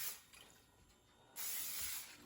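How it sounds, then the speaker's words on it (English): Cooking spray hisses into a pan for French toast, a quiet airy spritz after a brief earlier burst, heard close and faint. "we're going to put in some cooking spray"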